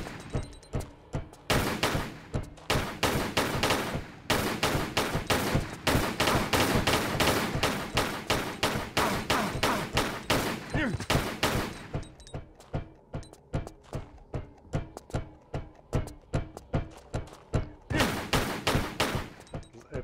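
Rapid gunfire from a Tomb Raider level editor game set in Egypt, dense bursts of loud repeated shots with brief pauses between volleys.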